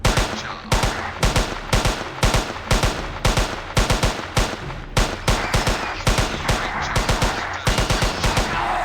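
Rapid repeated gunfire from the video game Jurassic Park Hunter, a dense burst of loud sharp shots in quick succession throughout, with no speech over it.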